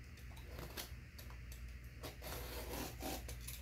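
A knife slices through the packing tape wrapped around a CGC comic box, a soft continuous rubbing and scraping with a few brief louder strokes, quiet and close.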